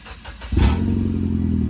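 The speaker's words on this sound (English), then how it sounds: "start up my car and hear what it sounds like now without the muffler" A Mitsubishi Evo X with its muffler removed and an STM cat delete test pipe cranks briefly and then catches, settling into a loud, deep, raspy idle that rumbles steadily.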